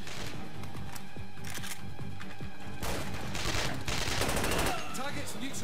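A pistol fires repeatedly in SAS Secure Tomorrow, sharp close shots in quick succession amid a dense, loud battle mix, with brief blast-like bursts later on.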